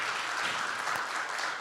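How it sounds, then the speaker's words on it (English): Steady, dense applause from an audience at a Rainbow PUSH Coalition forum for Haitian Independence Day, filling the short moment evenly and loudly with no voices over it. "give him a round of applause"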